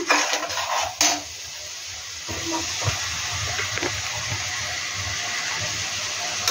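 Fish pieces lowered into hot oil in a pot set up a steady, loud sizzling hiss after a couple of brief clatters at the start.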